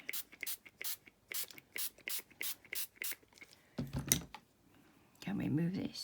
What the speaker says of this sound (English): That was my spray.